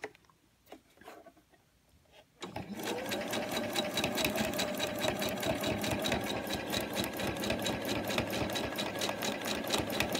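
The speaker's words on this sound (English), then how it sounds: "let the machine move your fabric along with you directing it" A sewing machine stitches along the edge of scrap fabric for a cuffs-and-lace bracelet, starting after a quiet moment and then running steadily and loudly with a fast, even mechanical rhythm.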